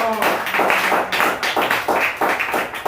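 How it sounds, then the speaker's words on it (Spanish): A crowd claps together in a steady, dense burst of applause that continues throughout, loud and close. "Demos un aplauso a Jesús."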